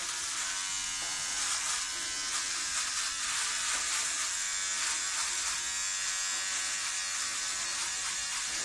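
An electric razor shaves a head with a steady, close, continuous buzz that varies slightly as it moves across the scalp, with no talking over it.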